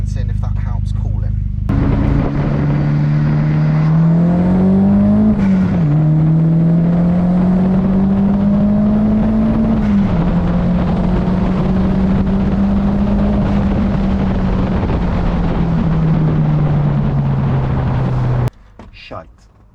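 A Toyota MR2 Mk3 roadster with a swapped 1.8T engine drives with the top down, its loud engine droning steadily and rising and falling in pitch over wind noise for most of the stretch before cutting off abruptly near the end.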